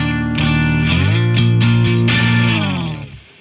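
Electric guitar played through a homemade FRED pedal build, distorted sustained chords ringing loud and alone for about three seconds before fading out.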